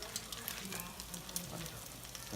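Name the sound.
salmon patties frying in extra virgin olive oil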